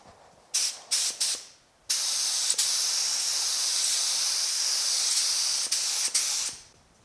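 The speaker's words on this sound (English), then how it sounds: "let me grab the gun, the respirator, and we'll get to spot priming this thing and get some primer on this molding here" A spray gun hisses in short test bursts, then a long continuous spray of primer onto molding on a 1950 Chevy truck hood, close and steady, ending with a couple of brief bursts.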